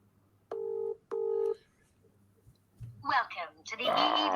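Telephone number dialed on a phone during a live cold-calling session: two loud, steady touch-tone beeps, each about half a second, then a pause before rustling and muffled voice-like sounds follow.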